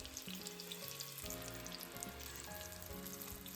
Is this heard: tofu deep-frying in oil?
yes